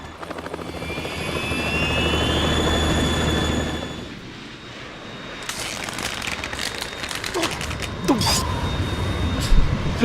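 A Harrier jet in the video game Metal Gear Solid 2 gives off a loud, steady engine roar and whine that shifts partway through into rougher, rumbling mechanical noise with scattered clanks.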